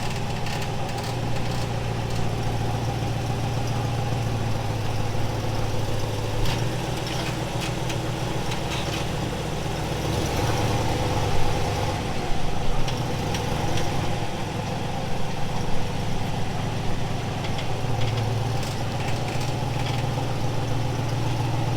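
A 1964 Chevelle's engine runs at a steady rough idle close by, a continuous low rumble with slight surges and a few small knocks and clunks over about twenty seconds, no talking.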